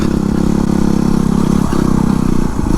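A Yamaha WR250R dirt bike engine runs close and loud on a rutted dirt road, its pulsing single-cylinder putter steady and rhythmic with a couple of quick dips in revs.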